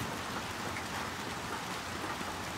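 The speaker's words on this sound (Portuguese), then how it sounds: "mas tá chovendo um bocado, viu?" Steady, dense rainfall in the game Little Nightmares 2 hisses evenly throughout, a continuous wash of drops with no gaps and no voices.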